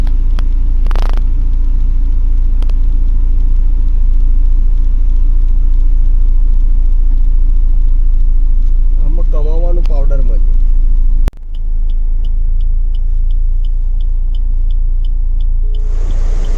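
A car drives in traffic on the Delhi-Bombay expressway, its steady low engine and road rumble running loud throughout. A brief voice cuts in midway, and the noise drops abruptly for a moment before the rumble resumes.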